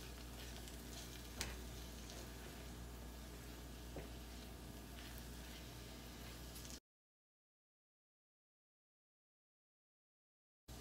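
Egg frying together with nopales in a pan, a steady broadband sizzle that stays even for several seconds with a couple of faint clicks, then cuts to silence.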